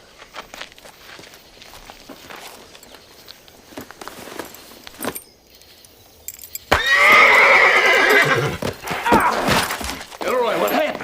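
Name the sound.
horse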